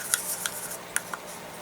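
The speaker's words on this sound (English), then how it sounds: "Just take the scissors, cut a line off the side," Scissors snipping a line off the side of a small DIY smart-garden container, several quick sharp clicks spaced irregularly against a quiet background.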